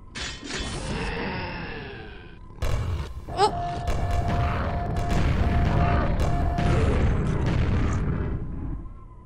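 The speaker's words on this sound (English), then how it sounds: "Hit my own grenade." A grenade goes off in a video game, a heavy booming blast followed by crackling debris and a lingering ringing tone, loud and close with no talk over it.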